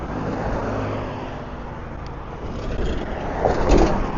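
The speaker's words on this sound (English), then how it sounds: "get these cars get through so I can get across the intersection" Cars roll through a road intersection, a steady broadband wash of traffic noise that swells toward the end as a vehicle passes nearby.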